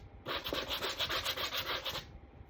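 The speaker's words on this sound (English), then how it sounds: "sand before we do our second coat" Paint is sanded by hand between coats, a close rasping scrub of rapid back-and-forth strokes lasting about two seconds.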